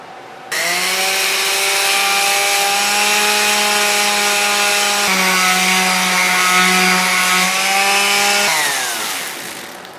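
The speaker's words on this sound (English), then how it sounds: "now we're going to take a little bit of time and sand it nice and smooth." A power tool runs steadily for about eight seconds with a strong harmonic whine, starting abruptly and winding down at the end, used to sand the rounded routed edges of a wooden sign smooth; loud and close, no talk.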